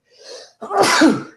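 A single loud, close sneeze with a short intake of breath before the forceful burst.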